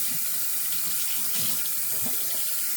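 A tap runs steadily into a sink as soap-making tools are rinsed off, with close splashing water that stays fairly quiet and has no voices over it.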